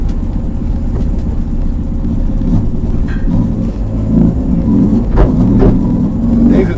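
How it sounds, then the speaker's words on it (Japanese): An electric Toyota AE86 with a manual gearbox drives with a low rumbling drone and a faint motor whine, loud and steady, with occasional knocks and rattles. "電気自動車ですよこれ。"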